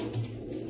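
A pigeon on a village pigeon farm gives a short, soft coo close by, a single brief call over quiet background with no voices.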